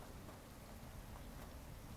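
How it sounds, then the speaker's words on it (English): Steady rain in a video game falls as a dense, even hiss that continues without a break, soft and fairly distant, with no voices. "But what about the building. sound of rain?"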